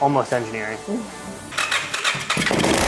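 A custom-built 50HP Power Wheels ride-on with a custom exhaust fires up for the first time, a loud rough engine roar bursting in after a second and a half of excited talking and continuing under voices.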